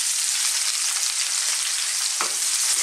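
Onion and chili sautéing in a pan of Filipino mung bean and dried anchovy stew: a steady, close, hissing sizzle throughout with one brief scrape of a utensil near the end.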